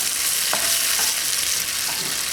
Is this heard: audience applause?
no